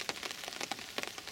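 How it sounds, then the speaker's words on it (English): Water drips off riverside trees on the River Swale in a slight wind, a faint, dense patter of irregular taps that sounds like steady rain. "every time that you get a slight wind, it drips off the trees. Seems like it's hammering down with rain"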